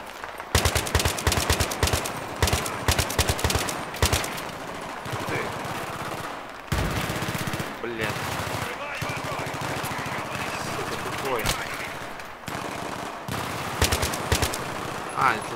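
Machine gun fire in the video game Battlefield 3, with rapid, loud bursts of gunfire repeating across the stretch and short pauses between volleys, under continuous game noise.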